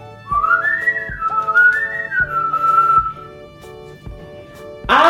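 A person whistles in imitation of birds chirping, with close, clear, warbling melodic phrases of rising and falling chirps lasting several seconds, then a brief louder burst at the end.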